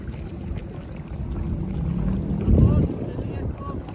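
A boat on the Dawki river in Meghalaya putters along with a low, steady rumble of motor and water, buffeted by wind noise, swelling briefly louder near the end.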